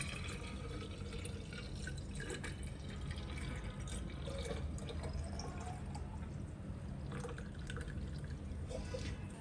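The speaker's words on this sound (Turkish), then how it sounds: "süzmüş olduğum kısmı şişeye dolduruyorum" Strained homemade lemonade being poured into a bottle, a steady, faint trickle and splash of liquid running continuously at low level.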